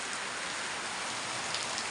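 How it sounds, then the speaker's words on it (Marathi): Heavy rain falls steadily on a village farm after sowing, a dense even hiss of drops on surfaces filling the whole stretch with no voices. "हा बघा पाऊस चालू झालेला आहे आमच्याकडे"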